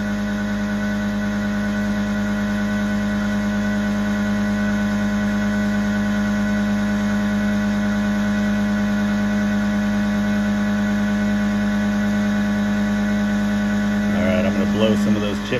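A Tormach CNC mill cuts a heat-treated 4140 steel brake caliper bracket with a loud, steady droning hum and a constant whine, and a brief clattering change near the end.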